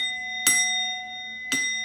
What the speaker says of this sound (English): let's hear the gong.